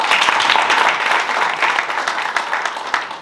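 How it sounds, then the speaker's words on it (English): Audience at an entrepreneurs' talk event gives a round of applause, dense steady clapping from many hands filling the room, fairly loud and close, with no talk over it. "we need to give you a round of applause"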